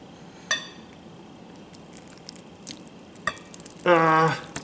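Cooked Shin ramen is moved into a pot with a few sharp metallic clinks and taps spread out over several seconds, ending with a louder ringing scrape.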